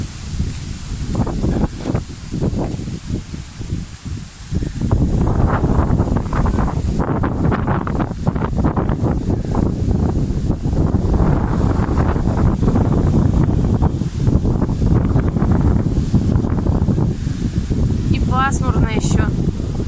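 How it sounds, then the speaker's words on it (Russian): Strong wind buffets the microphone outdoors on an overcast day by a vegetable garden, a loud continuous roar with gusts and rustling that builds after the first few seconds, while someone talks under it. "Посмотрите, какой сильный ветер."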